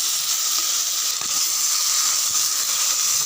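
Tomatoes and green chilies sautéing in a pan for a tomato peanut chutney, a steady close sizzling hiss with faint scattered stirring clicks and no talking.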